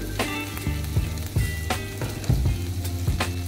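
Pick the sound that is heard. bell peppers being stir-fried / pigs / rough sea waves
bell peppers being stir-fried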